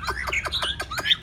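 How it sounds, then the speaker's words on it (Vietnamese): A Chinese hwamei songbird sings a rapid series of sharp, clear repeated phrases, loud and close, about six bright notes in quick rhythm with no talking. "Hàng ngày chúng ta luyện hót cho con họa mi của chúng ta ấy"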